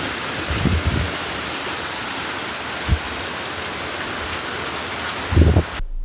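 Heavy rain pours down steadily alongside rushing floodwater, a dense, continuous roar lasting throughout, with a few brief low thumps breaking through.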